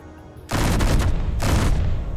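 Autocannon fire from the Space Engineers video game: a dense, continuous burst of rapid shots starting abruptly and running to the end, loud and close with a brief dip in the middle.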